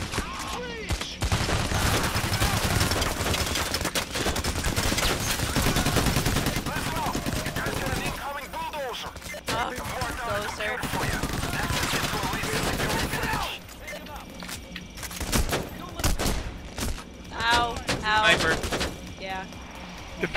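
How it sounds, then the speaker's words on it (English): Dense automatic gunfire in the Payday The Heist bank robbery game, sustained rapid bursts that fill the first half, then sparser shots and clatter, with players talking over it. "See how you guys like it when I can shoot back."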